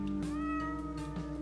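A cat in the video game OneShot gives one short, clear meow, heard close over a steady tonal backdrop with no talking.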